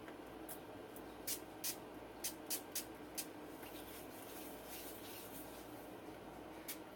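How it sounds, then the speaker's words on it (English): Faint, short hissing bursts of shave soap spraying from an aerosol can sound in quick irregular succession, then trail off into quiet room noise. "Okay, so it comes out like a spray."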